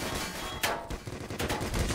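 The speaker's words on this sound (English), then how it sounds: "Oh, the turret is getting them." An automated turret in Black Mesa rattles off rapid bursts of gunfire at enemies, loud and close, with dense repeated shots filling the two seconds and no talk over it.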